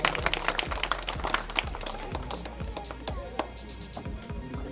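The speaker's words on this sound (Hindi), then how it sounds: "जोरदार तालियां आप सभी की" An audience at a welcome ceremony run by a Prajapati community study centre and library gives a round of applause. Individual claps are sharp and uneven within the steady clapping, which stays fairly loud throughout.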